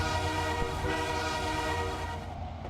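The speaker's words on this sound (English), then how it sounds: "Blast to the horn and back on down to our train." Sustained train horn blasting steadily in the Trainz railway simulator, a loud multi-tone chord held for nearly three seconds with a faint rumble of the locomotive beneath, fading slightly at the end.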